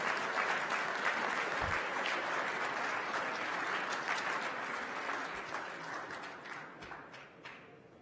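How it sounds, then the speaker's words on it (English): An awards-night audience at the 2016 QMFL Awards applauds the season's champions with sustained, dense clapping that stays loud throughout and tapers slightly toward the end. "On les applaudit chaleureusement, les champions de la saison 2016,"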